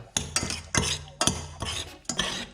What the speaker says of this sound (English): And finally add 1 tablespoon corn flour and mix well.